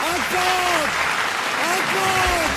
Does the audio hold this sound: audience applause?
yes